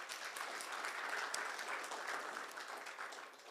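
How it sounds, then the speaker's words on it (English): A crowd at a startup founders' day fireside event gives a short, steady burst of applause that softens slightly as it ends. "So can we please have a round of applause for Dheeraj?"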